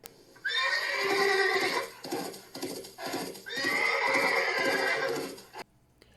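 A horse whinnies in two long, loud, shrill neighs, with faint hoof clip-clop and snorting in between, close by and clear.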